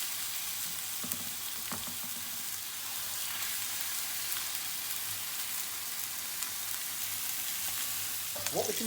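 Duck breasts sizzle skin-side down in a very hot pan, a steady crackling fry with scattered pops running throughout, close and continuous with no talk.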